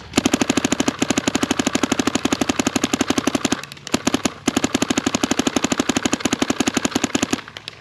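A DSR+ paintball marker firing a long rapid string of loud, evenly spaced shots up close, a brief pause midway, then another fast burst before it stops.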